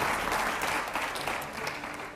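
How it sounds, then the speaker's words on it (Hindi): Steady, dense applause from a studio audience at a televised Hindi political interview show, loud and continuous throughout with no talking over it. "और जोरदार तालियां होनी चाहिए"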